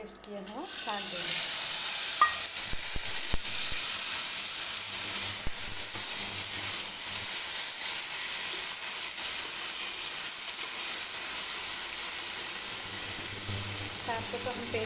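Boiled, ground mustard greens paste with raw garlic, green chili and coriander hits hot mustard oil with cumin, ajwain and mustard seeds, bursting into a loud, steady sizzle broken by occasional stirring clatter.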